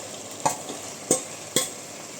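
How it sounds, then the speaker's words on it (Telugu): Chilli chicken pieces fry in a pan with a steady sizzle while a utensil stirs them, giving three distinct scraping knocks at fairly even intervals, close and clear. "ఇప్పుడు ముందుగా ప్రిపేర్ చేసి పెట్టుకున్న చిల్లీ చికెన్ ముక్కలు ఇందులో వేస్తున్నాను"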